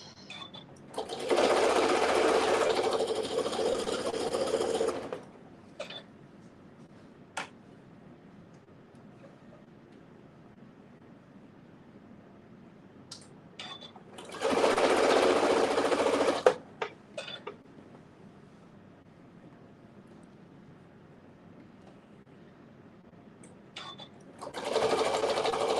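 A sewing machine stitches binding onto a T-shirt quilt, running in three loud bursts of several seconds each, separated by quiet pauses with faint handling noises.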